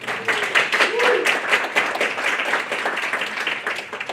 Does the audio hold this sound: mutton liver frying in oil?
no